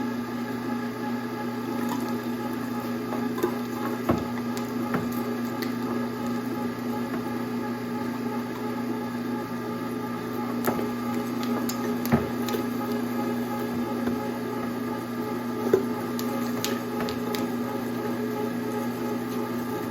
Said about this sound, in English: Not really sure if this grinder's a Hobart or what it is, but it sure does work nice.